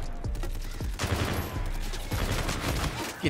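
Rapid bursts of UMP submachine gun fire ring out in the shooter game Call of Duty: Infinite Warfare, loud sharp shots in quick strings with brief gaps between volleys.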